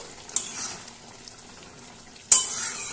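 Green chili gets stirred into jhinge posto, ridge gourd with poppy seed paste, in a pan, a soft close scrape and faint sizzle with a sharp clank near the start and a louder scrape toward the end.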